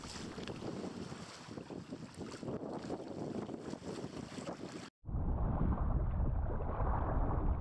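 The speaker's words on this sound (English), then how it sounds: "Here we are paddle sailing about 1/3 into our 15-mile crossing to North Bass Island at the east end of Lake Erie" Kayak paddle sailing on the east end of Lake Erie, with strong wind buffeting the microphone and rushing water, loud and continuous, breaking off briefly before a deeper, heavier rush of wind and water.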